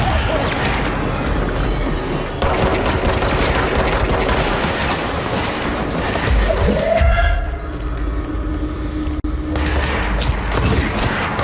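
Gunfire in the video game Control at the NSC Power Plant, sustained rapid automatic shooting and booming blasts, loud and continuous, with a sweeping whoosh partway through.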